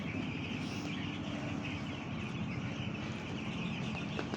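Broiler chickens on a poultry farm make a dense, constant murmur of clucking and chirping from a large flock, loud and steady throughout with no talking.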